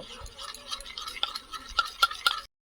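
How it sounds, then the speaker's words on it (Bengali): Gram flour is stirred into potato juice in a bowl to make a face pack, giving quiet scraping and soft clinks of the spoon against the bowl in an irregular rhythm. "আলুর রসের সঙ্গে বেসনটাকে কিন্তু ভালো করে মিশিয়ে নিচ্ছি"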